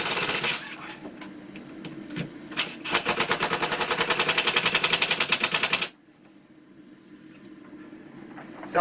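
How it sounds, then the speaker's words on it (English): A power screwdriver driving screws into plasterboard on a garage roof, short bursts and then a long rapid rattling run of clicks that cuts off abruptly into near quiet. "Let's get a couple more screws in."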